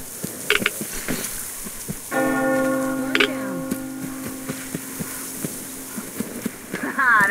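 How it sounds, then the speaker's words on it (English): A church bell tolls in the video game Metro Exodus: a sustained ringing strike with long, steady harmonic decay that hangs for several seconds in an outdoor scene with other faint game sounds. "You hear that bell?"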